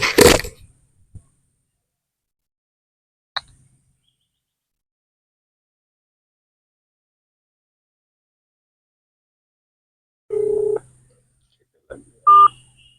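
A mobile phone keypad gives off a few short, separated electronic beeps as a number is dialed. They are sparse and spread out, with brief clicks and quiet gaps in between.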